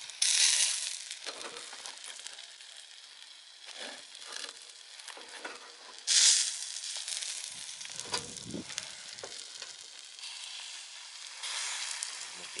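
Sausage and meat sizzling on a small, can-like camping barbecue grill, a steady loud hiss that swells when pieces are moved or pressed, with occasional scraping and crackling handling noises.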